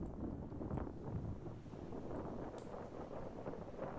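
Wind buffets the microphone on a stormy beach at low tide after days of storms, a steady low rumbling roar with gusty swells and no voices.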